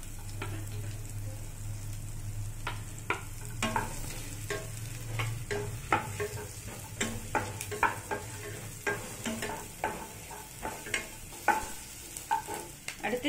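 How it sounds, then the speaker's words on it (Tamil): Onion sautés in melted fat in a pan for a horse gram soup, with a utensil stirring in irregular scraping clicks over a faint sizzle and a low steady hum. "இதில் ஆனியனை போட்டு நம்ம வதக்கிக்கலாம்."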